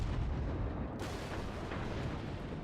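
Naval gunfire slams into a warship in the World of Warships video game as a dense, continuous roar of heavy booming impacts, loud and sustained with a sharp surge partway through.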